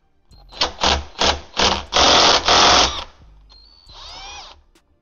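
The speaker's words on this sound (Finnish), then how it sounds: "Katsotaan saadaanko tällä meidän pulttipyssyllä auki." A pneumatic impact wrench loosens a 24 mm bolt on a BMW M54 engine's VANOS unit, firing in four short rattling bursts, then two longer sustained bursts, close and loud, followed by a quieter whining spin-down.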